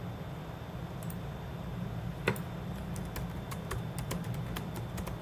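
Someone types on a computer keyboard, a quiet irregular run of light key clicks spread over a few seconds against a soft background hum, with no talking.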